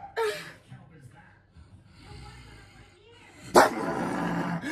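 A person imitating a dog's bark with a couple of loud, sharp woofs at the start and again near the end, with voiced noises between.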